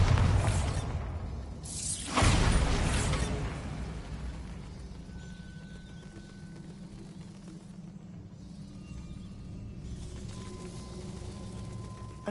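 A Bombarda blasting spell in Hogwarts Legacy goes off with loud crashing, shattering bursts at the start, then fades into a low ambient rumble with faint tones.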